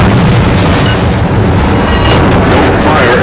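Warship guns fire in the naval combat game World of Warships, a loud, continuous wash of booming artillery and explosions with no breaks.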